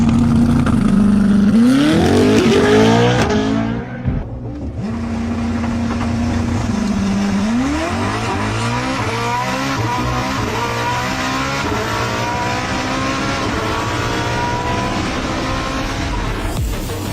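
A Koenigsegg Jesko Absolut supercar with a 5.0-litre twin-turbo V8 accelerates hard. The engine note climbs steeply through a gear, cuts out briefly at the shift, then rises again in a long, loud, sustained pull.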